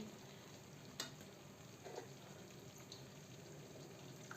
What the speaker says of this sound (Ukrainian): І до цього даємо чуть-чуть води.